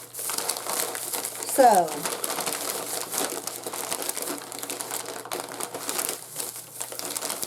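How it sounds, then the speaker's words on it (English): Plastic snack packaging from a Dollar Tree haul crinkles and rustles near the microphone, with a louder burst of crackling early on, while a person talks over it. "sorry about all the crinkling"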